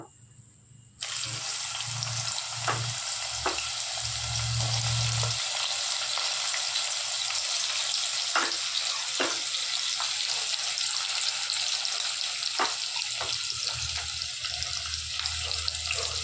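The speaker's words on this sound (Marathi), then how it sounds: "व्यवस्थित परत तेल कांदा फ्राय करून घेऊ." Onion frying in hot oil with bay leaf and cinnamon for a mutton gravy sizzles loudly and steadily after a quiet start, with scattered clicks of stirring.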